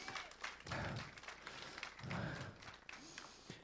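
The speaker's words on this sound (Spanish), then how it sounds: "Dale otro fuerte aplauso de gratitud al Señor." Congregation applauding in church, a dense burst of clapping that rises and swells twice with a raised voice faintly over it.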